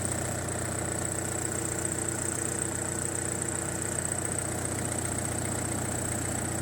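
A car engine idles steadily after a new TOPLA 75Ah 12V battery is installed, giving a continuous, even hum with a faint high whine throughout and no voices.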